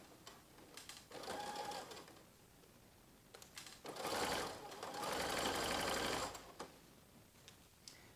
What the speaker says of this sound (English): I'm top stitching now from the right side, and along the bottom side I'm catching the other side of the ribbon.